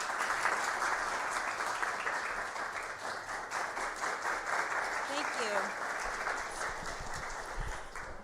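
An audience at the White House applauds to welcome Second Lady Pence, steady loud clapping from many hands that fills the room throughout, with faint voices heard beneath it.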